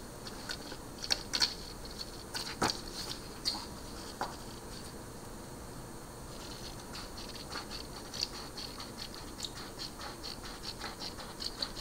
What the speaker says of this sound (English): We're all getting a lot of rain today.